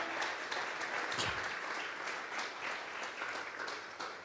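A church congregation at a Sunday service claps together, a dense patter of many hands heard from a distance, continuous and fairly quiet, with a few louder claps standing out.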